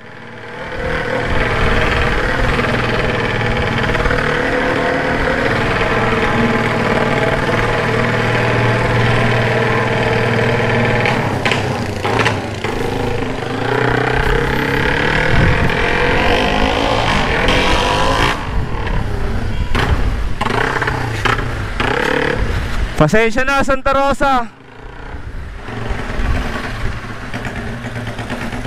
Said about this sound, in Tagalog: Napakaingay ng motor.